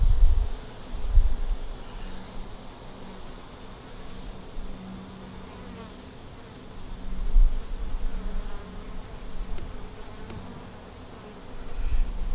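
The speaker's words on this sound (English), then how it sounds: "We got a bunch of bees on the outside ring resting." Honey bees drone and buzz close around an open backyard hive full of drones, a continuous insect hum that swells and fades as the bees move nearby, with no voices.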